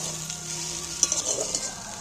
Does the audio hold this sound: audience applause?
no